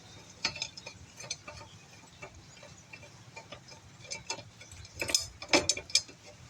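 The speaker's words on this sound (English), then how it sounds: "I don't know if you heard it click, but you want it to click" A bolt being worked into a Troy-Bilt TB110 550EX lawn mower, with a series of small dry clicks and ticks, close up, ending in a few louder metallic clicks.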